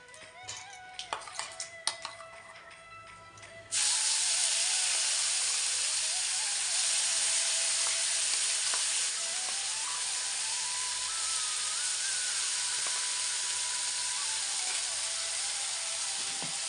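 Whole spices frying in hot oil, a sudden loud, steady sizzling hiss that starts after a few clicks and clatters and continues evenly to the end.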